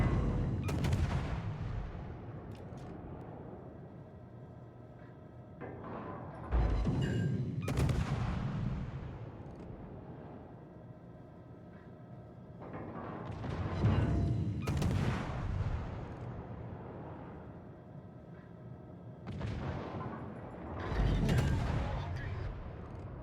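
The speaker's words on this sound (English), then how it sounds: "That was a nice salvo on the South Carolina." Naval gun salvos from the battleship South Carolina in the World of Warships game: three heavy booming volleys spaced several seconds apart, each with a sharp blast and long rumbling decay, with people talking faintly between them.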